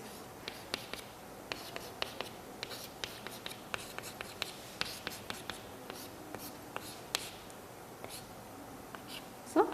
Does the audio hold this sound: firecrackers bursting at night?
no